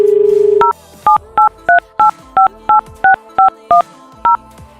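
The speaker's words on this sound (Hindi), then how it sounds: "मैं वापस काट के लगा रहा हूँ, सुनिए।" A telephone dial tone is cut off by a quick series of about eleven touch-tone keypad beeps, each short and evenly spaced, loud and close.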